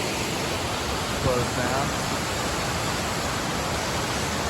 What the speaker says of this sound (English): Walking over an awesome waterfall.